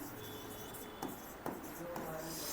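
Chalk or marker scratches across a classroom board with a few sharp taps and strokes, fairly faint under room noise.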